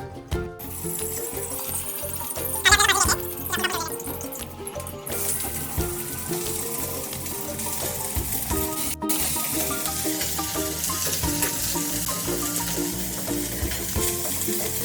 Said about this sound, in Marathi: आता आपण एक कढईमध्ये 1 चमचा तेल घेऊया आणि कांदे भाजून घेऊया